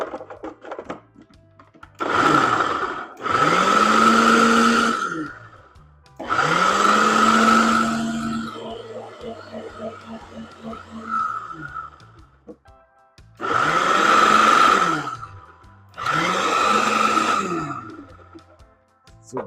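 Food processor grinding cauliflower for a plant-based pizza crust, loud whirring bursts with rising and falling pitch, five runs separated by short pauses.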